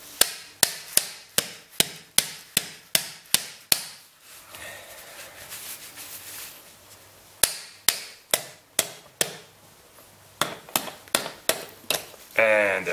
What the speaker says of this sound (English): push it inside and hammer